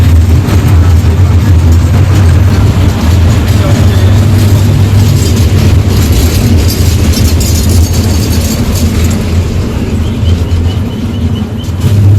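A small amusement park ride train for children rumbles along loudly and steadily, a constant low mechanical drone with clattering noise, close and unbroken throughout.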